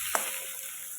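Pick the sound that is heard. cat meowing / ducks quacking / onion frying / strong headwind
onion frying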